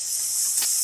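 Tomato goes into a hot pan while cooking vegetable sevai pulao, a vermicelli dish with turmeric, and a steady bright hiss and sizzle follows. A brief louder burst comes partway through.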